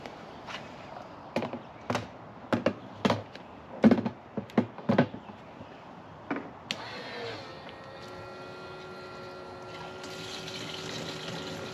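A small fuel transfer pump with an on/off switch and shut-off lever dispenses gasoline. Scattered handling knocks and clicks come first, then the pump starts a steady, moderately loud whirring hum that runs to the end.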